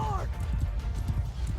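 Cavalry horse hooves galloping in Mount & Blade II: Bannerlord during a battle against a Khuzait horde, a steady busy clatter of many hooves running under game noise, with a brief whinny at the start and a voice talking over it.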